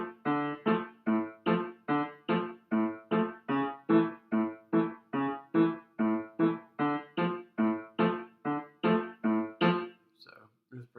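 A piano repeats the steady, even left-hand verse pattern of a song, low notes at a moderate pace for about ten seconds, then stops.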